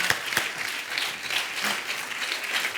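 A TV comedy show studio audience applauds steadily, many hands clapping together in a dense, continuous patter from start to finish.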